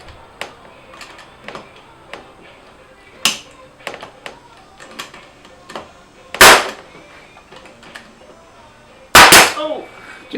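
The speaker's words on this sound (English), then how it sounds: "Get our little nail gun." A small nail gun fires into beehive boards with sharp, loud bangs, two standing out clearly, amid lighter clicks and taps of handling.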